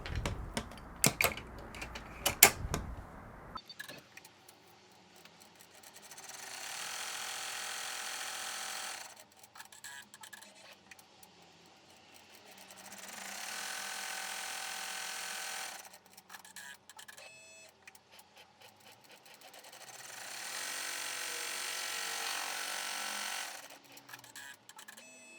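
An embroidery machine stitching across the zipper of an in-the-hoop cash card zipper pouch, with a few sharp clatters at the start, then three long rapid whirring stitch runs separated by quieter pauses, no voices.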